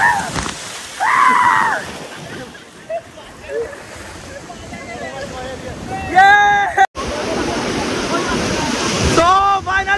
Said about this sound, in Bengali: ঢেউ আসছে, ঢেউ